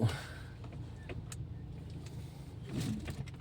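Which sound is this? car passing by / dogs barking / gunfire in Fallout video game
car passing by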